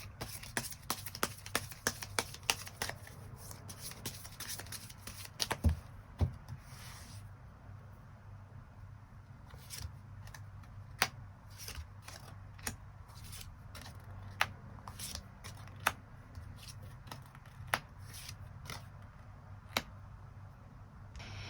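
Tarot cards are shuffled and drawn, with brisk rubbing and riffling at first, then scattered crisp snaps and slaps of single cards laid down in a quiet room.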